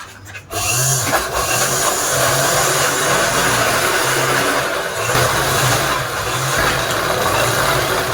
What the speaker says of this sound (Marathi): तर आता आपण ही पूर्ण चौफेक असं शिवून घेणार आहोत